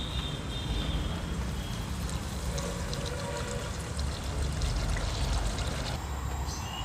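Water pours steadily into a pan of misal curry, a continuous rushing splash that lasts several seconds with no voices.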